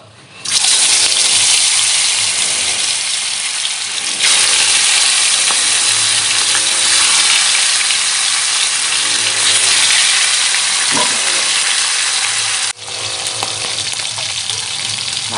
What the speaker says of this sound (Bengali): নদীর শিমুল কাঁটা মাছগুলোকে ভেজে নেব।